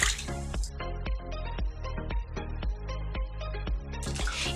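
Cloth diapers soaking in a container of water being stirred, producing rhythmic wet sloshing and squelching strokes about twice a second, close up and without talk.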